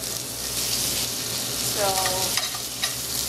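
Mushrooms sizzling in a pan with butter while a steak is cooked, a steady close frying hiss with brief stirring scrapes and a single spoken word.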